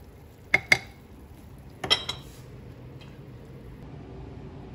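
A spoon knocks against a pot of pork simmering in red wine, two quick pairs of sharp metallic clinks close by, followed by a quieter low bubbling.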